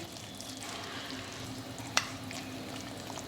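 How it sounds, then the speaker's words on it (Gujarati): Dhokla batter of ground flour, hot water and sour buttermilk being stirred, making a steady, soft wet swishing that runs throughout, with one sharp click midway. "હવે બધું સારી રીતે મિક્સ કરી લઈએ"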